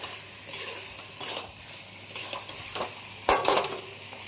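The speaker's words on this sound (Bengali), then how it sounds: "টমেটো সস দিলাম, দিয়ে 15 মিনিট কষিয়ে নেব।" Tomato sauce cooking down in a pan, with a soft sizzle under stirring scrapes and a couple of sharper utensil clinks near the end.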